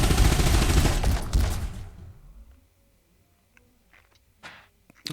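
A spaceship's guns blasting at an asteroid in a space video game, a dense loud volley of rapid fire that fades out, followed by near quiet with a few faint scattered taps.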